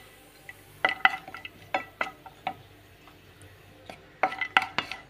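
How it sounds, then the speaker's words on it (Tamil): Cashews, almonds and raisins are fried in ghee in a pan, heard as a light, quiet sizzle under sharp scattered clicks and scrapes of a metal spoon against the pan, close by. "இது வந்து நெய்யில் நம்ம ஃப்ரை பண்ணி எடுத்துக்கலாம்."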